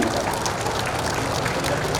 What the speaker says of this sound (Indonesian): Boleh beri tepuk tangan untuk kita semuanya.